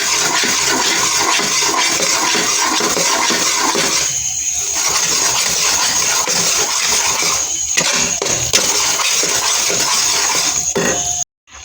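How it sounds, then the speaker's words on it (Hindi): An electric kitchen grinder churns gram flour (besan) with a little water, a loud, continuous whirring roar held for about eleven seconds before it cuts off abruptly. "यहाँ पर मैंने थोड़ा सा पानी डाल के बेसन को अच्छे तरीके से ग्राइंड कर लिया है।"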